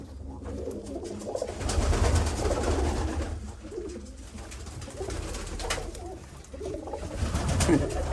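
Many pigeons coo in a low, rumbling chorus nearby, with soft wing flutters and overlapping calls throughout.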